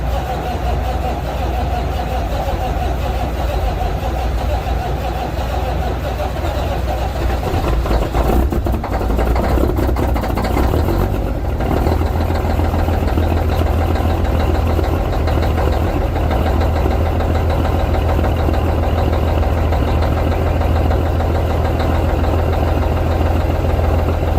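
Engine chugging through its exhaust pipe, a loud, continuous low rumble that idles steadily, then shifts and rises in pitch partway through as it builds up, with no voices over it.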